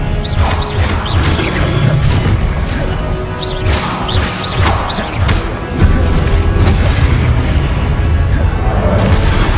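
Confringo fire-spell blasts in Hogwarts Legacy land as loud booms and crashing impacts amid busy combat effects, several bursts in quick succession with no voices.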